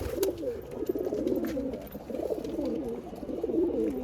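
Several pigeons in a Bengali home loft coo steadily and continuously, overlapping low burbling calls close by and fairly loud for the whole stretch, with no talk over them.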